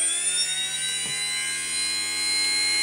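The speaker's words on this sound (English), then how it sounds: "I'm gonna start up my motor a little bit so it don't go from scratch" An electric motor on an RC helicopter with an external governor hums steadily at a low start-up speed, a continuous high-pitched whine with a stable tone and no pauses.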